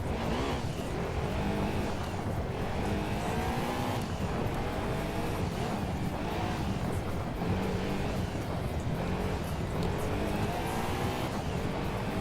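A Lancia Stratos rally car in Gran Turismo 2 drones at high revs through a fast rally stage, the engine rising and dipping with gear shifts and tyre noise, continuous and close.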